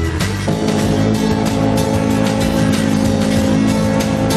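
The Golden Rod, a four-engine land speed record car with two transmissions, driven by Bill Summers in 1965, gives a loud, continuous engine roar with dense layered tones, steady and close, with no voices.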